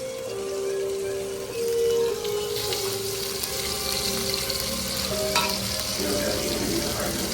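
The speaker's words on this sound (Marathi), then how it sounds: "बांगडा फ्राय करतोय." Fresh Goan bangda (Indian mackerel) fries in a pan with a loud, continuous close-up sizzle. A faint tonal hum and some watery crackle run under it, and no voices are heard.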